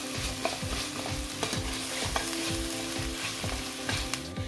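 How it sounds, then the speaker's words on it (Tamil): Onion and ginger-garlic paste sautéing in a pan, a steady loud sizzle broken by regular scraping strokes of a stirring spoon, about two per second, with no voices. "நம்ம இஞ்சி பூண்டு பேஸ்ட் சேர்த்துக்கலாம். பச்சை வாசனை போகிற வரைக்கும் வதக்கிடலாம்."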